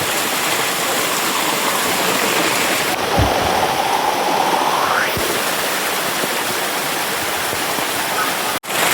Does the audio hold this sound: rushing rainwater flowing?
yes